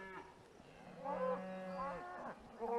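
Cattle moo in a couple of drawn-out, harmonically rich calls while being moved by riders on horseback, fairly close and alone without talk.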